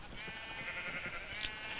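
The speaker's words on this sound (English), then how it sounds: "Sheep of every colour." Sheep of every colour bleat in a video game farm, a sustained wavering call that runs through the whole short stretch at moderate level over a soft background.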